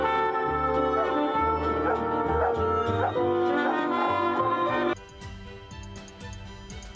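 Dog howling along with a street musician's accompaniment on a Crimean embankment, a steady musical bed with mournful canine vocal tones over it, loud and continuous, the music thinning out near the end.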